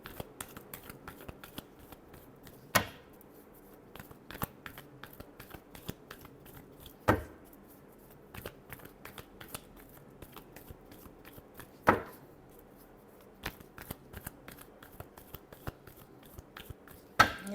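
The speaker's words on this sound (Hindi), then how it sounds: "Last shuffle." Tarot cards shuffled by hand, repeated sharp riffling bursts every few seconds with quieter card flicks and taps between, close and alone.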